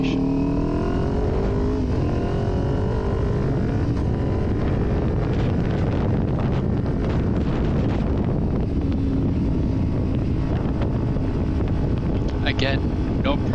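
A Kawasaki Ninja 400 motorcycle accelerates on a highway, its engine note rising steadily and loud beneath heavy wind buffeting for the whole stretch, with brief higher whines near the end.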